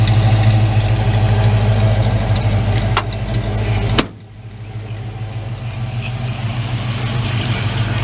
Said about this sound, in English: that's a sweet little purr from 289 from 1966